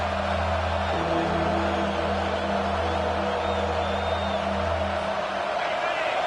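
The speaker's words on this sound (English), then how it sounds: "Here comes this home crowd as the defense tries to get off the field on third down." Home crowd at an American football game roaring steadily throughout as the defense faces third down, a dense, continuous wall of cheering with low droning tones underneath.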